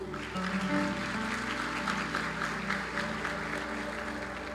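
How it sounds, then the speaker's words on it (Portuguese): Steady, distant-sounding clapping from a church congregation, continuous and moderately loud, with faint musical tones beneath. "Aplauda ao Senhor."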